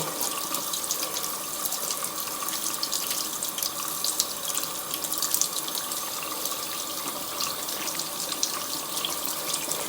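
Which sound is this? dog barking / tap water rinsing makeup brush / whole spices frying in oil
tap water rinsing makeup brush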